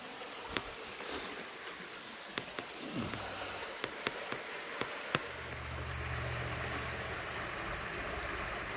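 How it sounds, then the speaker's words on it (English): Rain falling in a forest with heavy drips off the trees, a steady hiss broken by scattered sharp droplet taps, with a low rumble rising partway through. "it's like a heavy mist of a rain"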